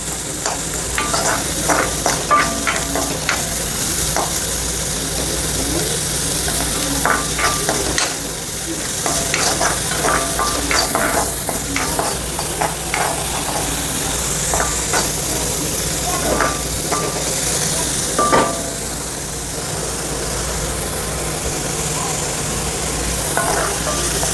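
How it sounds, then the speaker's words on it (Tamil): Finely chopped onions fry over a medium flame in a pan, giving a steady, close sizzle and hiss with frequent scraping stir strokes throughout. "ஃபர்ஸ்ட் வந்து நான் வெங்காயம் ஆட் பண்ணுறேன்."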